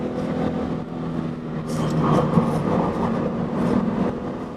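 A 2013 Subaru BRZ pulls hard on a race track hot lap, its engine a steady, loud drone with a slight climb in pitch as it accelerates, heard from inside the car.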